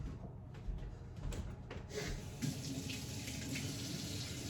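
A kitchen tap runs while food is rubbed under the water, a steady, fairly quiet splashing stream with faint handling noises and shifting flow, no speech.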